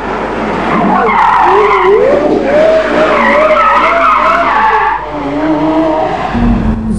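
A Porsche Carrera GT sports car, 612 hp, drives hard with loud, continuous tire skidding and squealing over a revving engine, sustained close by for several seconds with a brief dip near the end.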